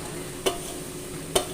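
Chopped jackfruit bulbs cook in a pan with a soft, continuous sizzle, broken by two sharp scraping clicks of a spoon stirring against the pan.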